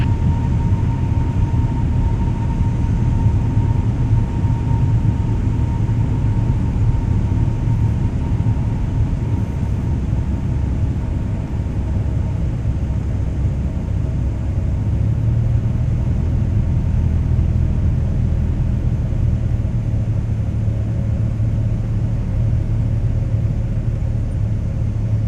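Small airplane engine droning inside the cockpit on a solo flight near Gwinnett, a loud, steady, low rumble filling the cabin without break and no voices.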